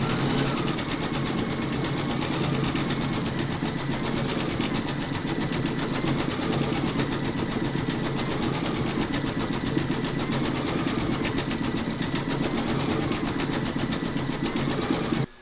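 An embroidery sewing machine stitches a coffee-pot design on a placemat, running steadily and continuously with a dense, even mechanical whir and rapid needle chatter throughout, loud and close with no talking.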